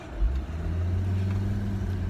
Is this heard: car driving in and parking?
yes